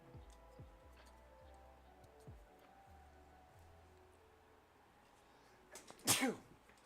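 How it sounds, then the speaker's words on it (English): One sharp, fairly loud sneeze bursts out near the end, after several seconds of soft clicking and faint background noise. "I've been sneezing a lot, y'all."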